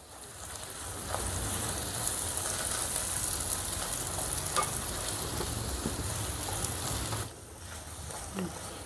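Garlic chili paste frying in a pan, a steady close sizzle with stirring scrapes throughout, briefly dropping out near the end before resuming.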